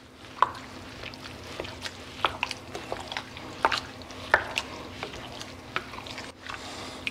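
Beef and tomato sauce for chili being stirred together in a pot, giving soft wet squishes and a run of sharp spoon clicks and taps at a fairly regular pace, heard up close over a low steady hum.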